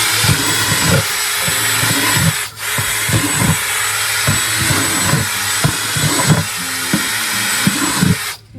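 A power drill bores drainage holes through the bottom of a garden bucket in repeated short, loud bursts close by, with a brief pause midway and no talking.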